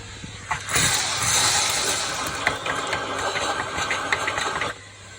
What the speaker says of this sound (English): hoovered the beans out